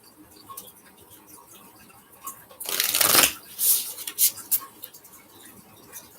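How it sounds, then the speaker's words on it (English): An oversized deck of oracle cards is shuffled by hand, with light riffling ticks at first, then a loud dense burst of card-on-card flutter, followed by several shorter shuffling bursts and taps, close up. "But this deck is big, so it's difficult to shuffle."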